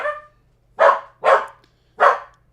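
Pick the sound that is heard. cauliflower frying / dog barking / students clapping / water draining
dog barking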